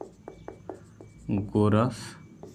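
Chalk or pen writing on a board or paper during a maths lesson: a few short, light scratching strokes in a quick rhythm, then a voice speaking over faint writing.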